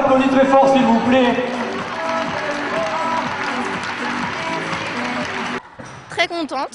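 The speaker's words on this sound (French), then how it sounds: "On les applaudit très fort, s'il vous plaît." An audience at a sports awards ceremony applauds loudly and continuously while an announcer's voice carries over the top; the clapping cuts off near the end and a brief burst of music follows.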